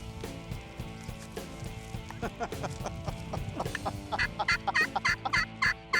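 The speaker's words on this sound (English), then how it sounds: "I don't know if they're gonna gobble in here or not" Several wild turkeys gobble during a spring hunt, repeated rapid gobbling calls that grow louder and more frequent toward the end, standing clearly above background birdsong.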